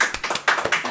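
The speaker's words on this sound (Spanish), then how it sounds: "un fuerte aplauso, Luisa, por favor." Brief, scattered clapping from a small studio audience at a game show, a few sharp uneven claps with no talk over them.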